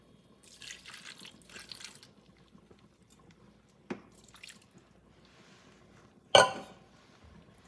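Water poured or dripping into a bowl while seasoning steak with salt and pepper in a kitchen, with brief splashy bursts, a sharp splash near the end, and soft clinks between.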